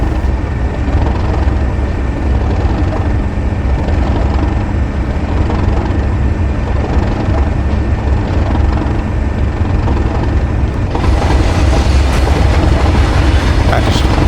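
A steady, loud train rumble with rattling wheels in the video game Train Sim World 3, running continuously and growing slightly brighter toward the end.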